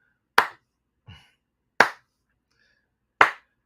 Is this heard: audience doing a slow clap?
yes